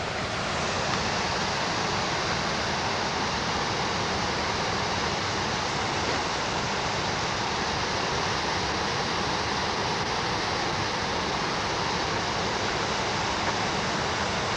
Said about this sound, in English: I can't hear her with that waterfall there.